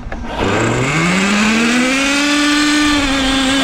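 A Traxxas Nitro Sport RC car with an upgraded 3.3 nitro engine revs up from a quick start into a loud, buzzing high-pitched whine that climbs and holds steady nearby, with no talking.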